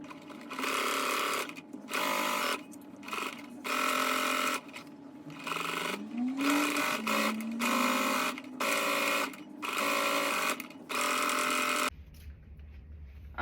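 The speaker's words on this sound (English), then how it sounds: "So I'll go ahead and sew on this long side." Sewing machine stitching the long side of a fabric tote bag in a series of close, loud bursts of running stitches separated by brief pauses.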